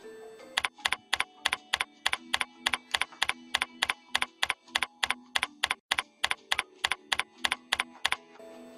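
Rapid, evenly spaced clacks of typing on a computer keyboard, a steady run of crisp key presses close to the microphone with no talking.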